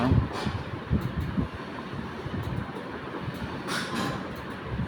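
Rumbling, clattering rail noise of a small amusement park train ride rolling past, with rhythmic knocks over a steady low roar, fairly close.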